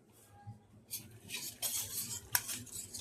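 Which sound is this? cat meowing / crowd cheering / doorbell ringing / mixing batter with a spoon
mixing batter with a spoon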